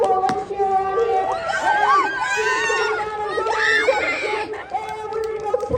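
Crowd at an Illinois Valley Pistol Shrimp baseball game cheering loudly, with high-pitched screams, whoops and shouted voices overlapping in a sustained, close roar.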